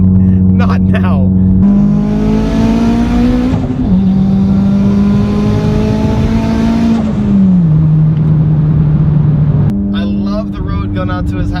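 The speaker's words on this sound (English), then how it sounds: "I'm done hearing this car's drone" A loud, steady exhaust drone from a Mitsubishi Evo X without mufflers hums continuously, rising and falling slightly in pitch as the engine holds and shifts revs.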